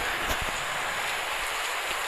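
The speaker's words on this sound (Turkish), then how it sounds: "Aha yağmur yağmaya başladı." Rain falls in the Melon Playground video game, a dense steady hiss of broadband noise with no clear individual drops, moderately loud and alone.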